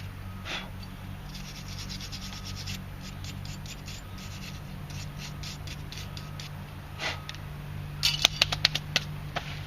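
Brushing brake dust off the brake spring clip of a Mercedes 500SL: a soft, steady rubbing and scrubbing close by, ending in a burst of quicker scratchy strokes, with no talking.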